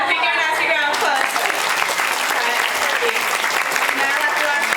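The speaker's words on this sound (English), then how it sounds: "go nice big round of applause" Audience applause at an outdoor dolphin and seal show, a broad steady patter of clapping across the whole stretch, with a voice talking over it at the start and seal or crowd noises scattered through.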